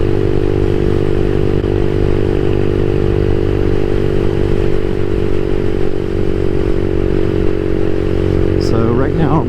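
A CSC SG250 motorcycle fitted with a MotoCult Stage 4 upgrade drones steadily at speed, holding a loud, constant engine note at roughly 5,500 RPM with wind rush throughout and a brief clatter near the end.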